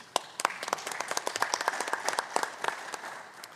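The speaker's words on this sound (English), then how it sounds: "We should give him a round of applause." A conference audience at an obesity surgery congress applauds, a dense wash of many hands clapping with sharp individual claps standing out, steady and fairly close for the whole stretch with no talk.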